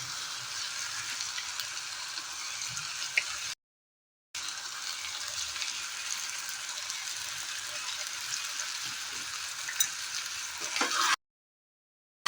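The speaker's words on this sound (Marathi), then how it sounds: "त्याच्यामध्ये मी आता तांदूळ घालून घेते" Rice is stirred into a fresh green pea masala for a pulao, making a steady soft frying hiss with light scraping, broken by two brief silent gaps.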